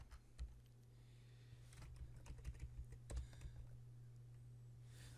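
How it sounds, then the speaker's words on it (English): Quiet, irregular clicks of typing on a computer keyboard, short bursts of keystrokes over a low steady hum, with a brief pause midway. "I'm having trouble typing today."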